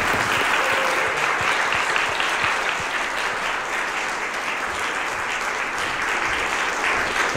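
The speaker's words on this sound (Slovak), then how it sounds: "Tak já vás poprosím o potlesk pro naše hosty." Audience applause for guests at the close of a talk on sensible urban growth, a dense, steady wash of clapping from a large crowd that holds at an even loudness throughout, with no voices over it.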